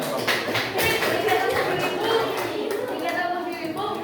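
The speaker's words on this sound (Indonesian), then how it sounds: "Oke, beri tepuk tangan ya" A seventh-grade classroom in Indonesia bursts into clapping, a dense patter of many hands lasting several seconds, with scattered children's voices mixed in.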